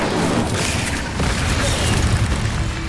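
A fiery Incendio spell blast in the Hogwarts Legacy video game, a dense, loud, sustained roaring burst with rumbling low-end crackle filling nearly three seconds, with no voices over it.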